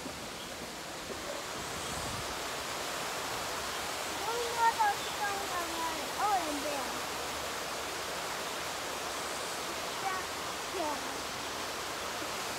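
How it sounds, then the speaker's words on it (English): A waterfall pours as a steady broadband rush throughout, with people talking faintly over the constant roar. "Waterfalls."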